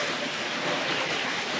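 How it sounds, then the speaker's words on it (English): A Tri-ang Transcontinental model train runs on a layout, giving a steady, close, continuous rolling rumble and rail noise with no pauses and no voices. "TC train coming in here."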